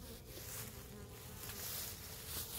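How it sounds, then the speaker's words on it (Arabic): Honeybees hum in a dense, continuous buzz at an apiary beehive on a very hot day, close and steady with no pauses, and no voices over it. "اذا هنايا كنشوفوا بلي ان النحل كله داخل"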